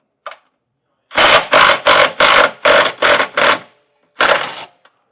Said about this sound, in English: There's a 10mm nut that we can just take out.